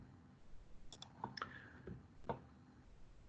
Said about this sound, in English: right click, open a new tab